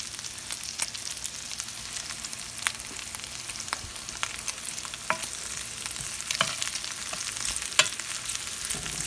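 Leftover cooked potatoes frying in a pan, a steady soft sizzle with scattered crackles and pops from the hot oil, fairly quiet and close with no talking.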